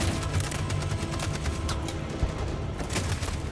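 Machine gun fire rattles in a video game battle, a continuous fusillade of fairly close, rapid shots with occasional heavier booms.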